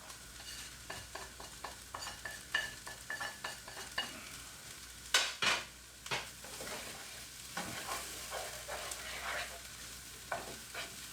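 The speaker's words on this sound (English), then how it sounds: "Gonna get my sausage back in now. With all my seasoning." Sausage meat frying with seasoning in a pan, a continuous soft sizzle broken by repeated scraping stirs of a utensil, close and fairly quiet.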